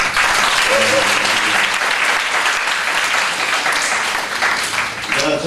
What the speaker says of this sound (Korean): 보이지 않는 선교사님 위해서 한 박수 한번 쳐주세요.